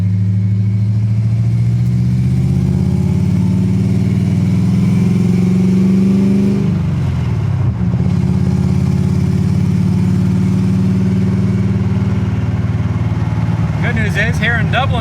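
An AMX car engine converted to EFI accelerates gently at low throttle around roundabouts. The interior drone is loud and steady, dips and rises midway, and a voice speaks near the end.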